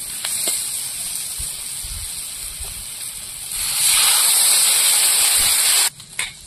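Water poured into a pan of sizzling fish curry masala sets off a strong steamy hiss that surges louder midway, holds steady and then drops off abruptly, with faint clinks underneath.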